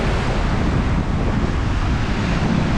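Sea surf rushes against a beach in a constant loud roar, buffeted by heavy wind noise on the microphone, with no distinct break between waves.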